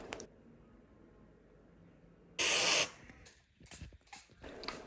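Body spray or deodorant from an aerosol can gives one loud, bright hiss lasting about half a second, followed by faint rustling and handling noises in a quiet room.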